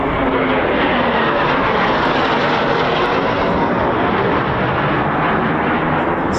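Eurofighter Typhoon FGR4 jet approaching RAF Coningsby, a loud, steady, broadband engine roar that fills the whole clip without letting up, heard close with no speech over it.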